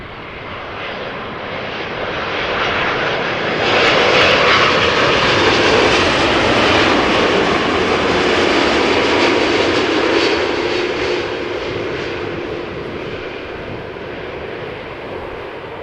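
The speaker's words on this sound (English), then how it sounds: "This 7879 Dreamliner is arriving from Las Vegas." Boeing 787-9 Dreamliner arriving at Amsterdam Schiphol roars overhead, a broad jet-engine rush swelling loudly to a peak and slowly easing as it passes, with no talk.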